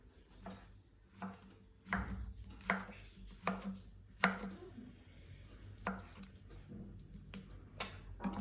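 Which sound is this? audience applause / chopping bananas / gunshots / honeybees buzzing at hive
chopping bananas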